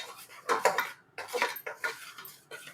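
Ariselu flour dough is mixed in a pot with a metal spoon, producing a few short, close scraping clinks in an uneven rhythm, with brief pauses between strokes.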